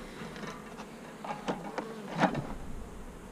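A faint, steady buzz of bees around a beehive, with a few louder passes from individual bees flying near, heard quietly in the open without voices.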